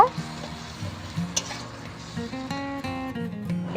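Ginger, onion and chilli paste loosened with a little water is stirred in a frying pan: soft repeated scraping over a low sizzle, close by, with a steady tonal hum in the background and no voices.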